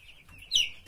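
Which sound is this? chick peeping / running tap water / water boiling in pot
chick peeping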